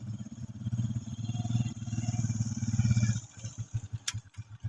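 A motorcycle with a possible punctured tire runs nearby with a steady, loud engine drone that shifts into slower, distinct putting pulses near the end.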